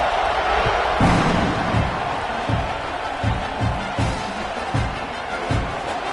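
Football stadium crowd roaring at kickoff after a long touchdown, a steady loud wash of massed voices with scattered thumps and shouts throughout.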